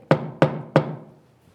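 Three firm knocks on a door, evenly spaced about a third of a second apart, each a close, woody thump with a short ringing decay, then silence.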